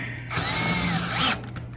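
A power drill drives a screw during a clothes dryer repair, letting out one loud, close whine that lasts about a second between quieter moments.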